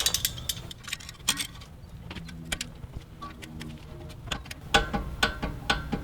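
A wrench torques a brake caliper nut on a Lexus LX470 during a brake pad and rotor job, giving a series of close, sharp metallic clicks and ticks over quiet garage background.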